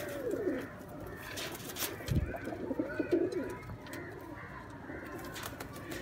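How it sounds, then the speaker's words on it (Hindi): About twenty pigeons, males and females together, cooing softly in low, rolling calls, close by, with a few wingy rustles and faint background noise. "ये तकरीबन कोई 20 कबूतर हैं, 19-20 कबूतर हैं"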